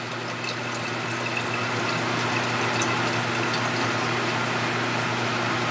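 Refined gold is rinsed with water, giving a loud, steady rush of running liquid with a constant low hum underneath, continuous throughout.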